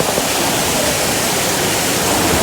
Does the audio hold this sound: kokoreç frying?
no